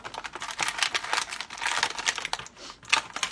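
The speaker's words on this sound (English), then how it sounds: "Let's get him cut out of the box here." Crinkly plastic packaging of a Rise of the Teenage Mutant Ninja Turtles action figure is cut and pulled open, giving close, continuous crackling and snipping with rapid irregular crunches.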